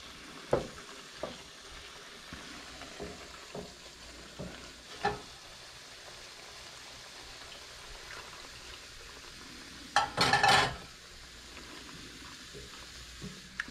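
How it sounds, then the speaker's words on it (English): A pan of mushroom risotto with onion is stirred, with soft bubbling and a faint simmer, scattered spoon taps against the pan, and a brief louder burst of scraping near the end, no speech. "Now, when we say stir constantly, we mean just that."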